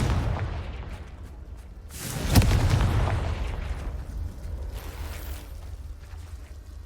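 A Confringo spell explosion in Hogwarts Legacy, a booming blast roughly a third of the way in that swells and fades into a long rumbling tail over a low ambient bed.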